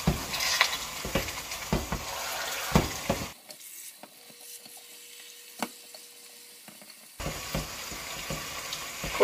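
Frozen taco meat frying in a pan, with a steady sizzle broken by close scraping strokes, a quieter pause in the middle before the sizzling and scraping return.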